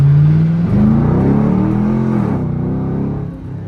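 A Chevrolet Camaro SS pulls hard in first gear, its loud, close engine note climbing steadily in pitch before easing off and dropping away near the end, with no talk.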